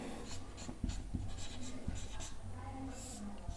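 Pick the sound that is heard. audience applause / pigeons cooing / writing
writing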